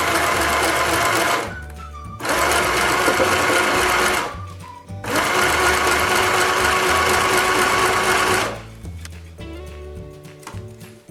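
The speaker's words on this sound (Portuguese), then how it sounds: "Então eu vou costurar aqui para vocês verem." A domestic sewing machine stitches a straight seam in two long runs of fast, steady mechanical whirring, with short quiet pauses between the runs and clicks after the second run.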